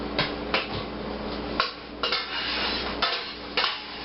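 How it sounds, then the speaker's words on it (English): A metal spoon clatters against the sides of a cooking pot while browning beef is stirred, six or seven distinct scraping knocks in a short run, close and moderately loud. "I need to stir my meat real quick."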